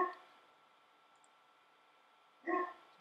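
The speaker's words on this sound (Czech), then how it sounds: "Tak štěkáme tu hafík." In the video game Empire at War, a dog gives two short barks, one at the start and another near the end, separated by quiet low background noise.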